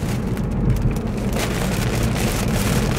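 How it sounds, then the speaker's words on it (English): Rain falls steadily on a car windshield as a dense, even patter that's close and continuous, with a low rumble underneath and no talking. "It's starting to rain out here."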